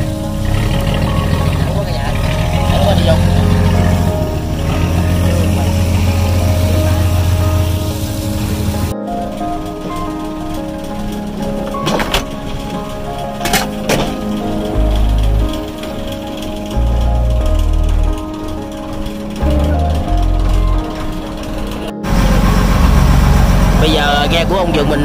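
Engine of a wooden fishing boat (ghe) chugging and idling as it gets ready to set off, heavy rhythmic low thumping with a brief break in the middle, under people talking nearby.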